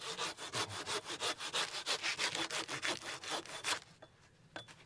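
A hand saw cuts through wood in a steady rapid rhythm of about twenty close, loud rasping strokes, then stops abruptly, leaving a near-silent pause with one faint final scrape.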